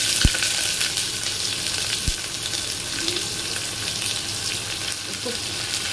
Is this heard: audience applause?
no